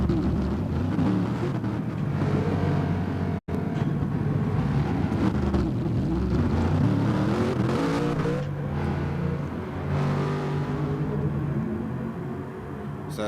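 Race car in a racing game pulling out onto the Nürburgring GP circuit, its engine droning and revving loudly through gear shifts, with one abrupt momentary cut in the sound.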